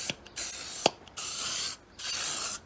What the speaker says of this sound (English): The thing I don't like about spray paint is it spits out little, blobs.